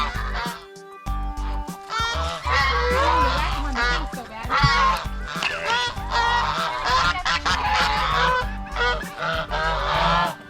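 A noisy flock of geese honking loudly and continuously, overlapping calls from close by, with a voice briefly audible among them.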